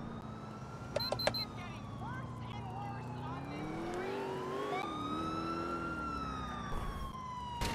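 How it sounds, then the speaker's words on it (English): An ambulance siren wails in a rising and falling tone, fairly faint and steady across the scene, mixed with other traffic and game sounds. "Oh, and the crazy ambulance driver now."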